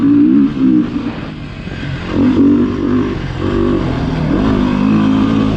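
A 2019 Beta 350RR-S dirt bike being ridden, its engine revving up and easing off in repeated surges with a rough mechanical drone and gear-change dips, close and loud throughout with no talking.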